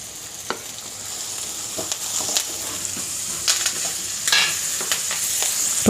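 Sliced onions and curry leaves sauté in a hot oiled pan, giving a steady close sizzle broken by scraping stirs of a spoon.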